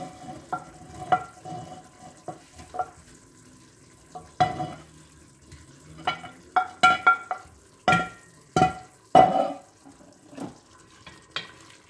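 A spoon works through a meat mixture in a pot, making a series of wet, irregular squelches and knocks, some sharp and close, spaced out with short pauses.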